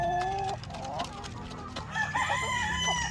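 Roosters on a farm crow and cluck nearby, several overlapping calls rising and falling in quick succession, loud and close with other fowl sounds behind them.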